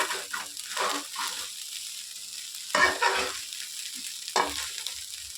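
Paneer fried rice, street style, is stirred and tossed in a hot pan, with spatula scrapes in bursts over a soft, steady sizzle and no talking.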